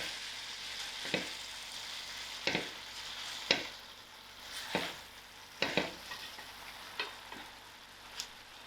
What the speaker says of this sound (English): I'm going to mix in my herbs